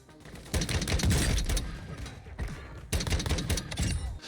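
The Tempus Torrent, a video game gun, firing rapid single shots in two dense bursts separated by a short pause, loud and close with booming low impacts.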